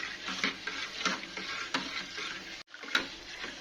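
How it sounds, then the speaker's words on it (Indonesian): A spoon stirs a boiling pink strawberry syrup mixture in a pot, giving steady scraping and bubbling with a few sharper clicks against the pot and a brief gap near the end. "Diaduk-aduk terus ya"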